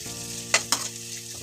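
Street-style noodles fry in hot oil with a steady, bright sizzle, broken by two short scraping clatters of stirring, close up with no talking.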